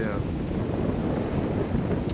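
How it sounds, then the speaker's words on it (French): Outdoors on a morning ride, wind buffets the microphone with a constant low rumbling roar that fills the whole moment without pause. "il y avait un peu de vent là ce matin là, qui caressait mon visage et rafraîchir mes pieds"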